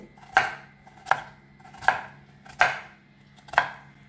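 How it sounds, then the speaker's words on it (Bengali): Knife cutting a whole potato into thick, long sticks, five distinct chops on a board spaced under a second apart, close and clear with no talking. "এভাবে পুরো আলুটা কাটি।"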